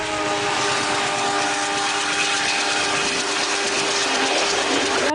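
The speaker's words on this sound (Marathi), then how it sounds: "या रोजच्या धावपळीत त्यांना मदत करते ती म्हणजे आमची मुंबईची लोकल ट्रेन." Mumbai local train running, a steady loud rumble and rattle of carriages with tonal hum, continuous and close, as if heard from on board.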